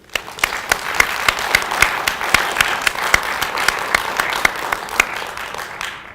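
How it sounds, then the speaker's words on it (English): An audience at a live campus storytelling event breaks into steady applause, many hands clapping with sharp claps standing out, sustained for several seconds before tapering off. "So let's give a round of applause to them one more time."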